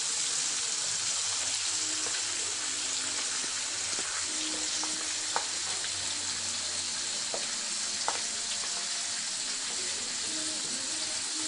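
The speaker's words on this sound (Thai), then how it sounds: "ทอดใบมะกรูดจนกรอบแล้วจ้า" Kaffir lime leaves frying in hot oil for Isan-style spicy duck larb, giving a steady close sizzle with occasional sharp pops and crackles throughout, with no talking.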